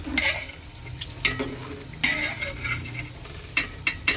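Spoon stirring fried cauliflower and potato through the other ingredients of a vegetarian khichuri in a pan, with scraping scrapes and clinks against the metal over a soft background sizzle, no talking.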